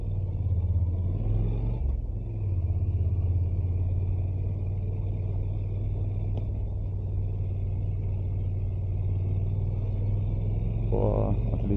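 A motorcycle rides uphill in Bosnia and Herzegovina, its steady low engine drone and road rumble continuing close and unbroken, with a brief dip near the start.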